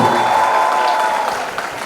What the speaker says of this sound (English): Can we have a huge round of applause for Mahima and Ayush again?